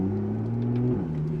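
A Porsche 911 Carrera 4S (991.1) on stock downpipes with a Valvetronic Designs exhaust produces a deep, steady exhaust drone at idle to light throttle, close and alone, its pitch dipping briefly near the end.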